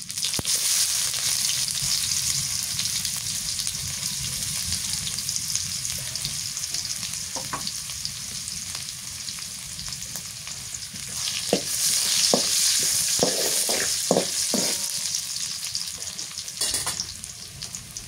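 Cumin, black cumin and onion frying in oil in a village kitchen, a steady loud sizzle with sharp clicks of stirring scattered through the second half.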